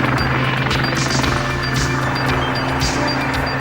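A Sea King helicopter drones steadily nearby, its rotor thumping in a continuous loud rumble with a faint high whine.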